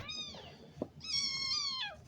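Domestic cats meow close by, two drawn-out tonal calls with a short thump between them, no voices.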